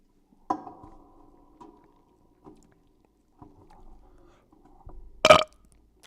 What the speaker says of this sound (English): You want to burp? Watch this.